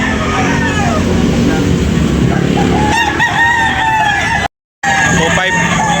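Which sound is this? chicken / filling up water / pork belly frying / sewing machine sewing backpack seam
chicken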